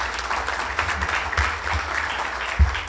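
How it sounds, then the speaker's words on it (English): Audience at a Pinellas GOP political meeting applauds briefly, a scattered moderate round of clapping with a few louder thumps, in a room setting. "You should clap for that."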